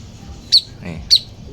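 Two sharp, high chirps from a Javan pied myna during its molt, evenly spaced, over a low murmur of background noise.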